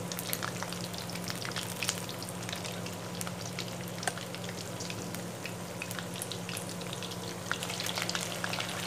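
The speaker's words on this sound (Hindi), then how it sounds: "अब चलते हैं जी इसको फ्राई करने की तरफ। इसको स्लो आंच पे पकाना है जी 4 से 5 मिनट।" Chicken lollipops frying in oil over a low flame, a continuous dense sizzle with scattered crackles and pops over a faint low hum, close and steady, with no talk.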